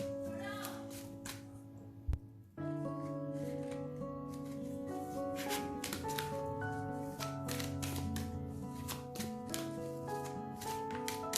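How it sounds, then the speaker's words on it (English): Tarot cards riffle and slide repeatedly in quick crisp bursts, heard over sustained background music. "It's a lot of shuffling."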